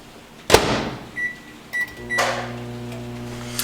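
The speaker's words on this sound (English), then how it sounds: "pop it in the microwave" A microwave oven heats a food container with holes poked in its film: a door thud, a few short button beeps, then a steady low electrical hum running alone.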